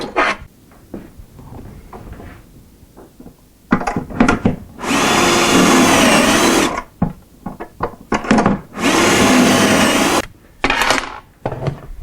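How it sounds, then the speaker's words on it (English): A power drill whines in two sustained bursts, each a couple of seconds long, boring shelf pin holes in wood with a Kreg shelf pin jig, separated by clicks, taps and handling knocks on wood. "We just keep on drilling the holes wherever you want them."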